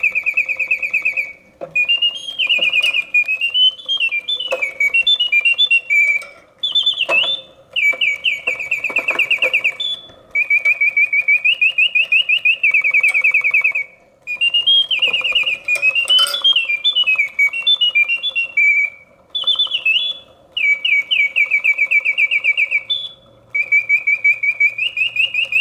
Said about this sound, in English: Exceptionally sweet song. The bird animates exactly as she should, yet the mechanism runs smoothly and quietly.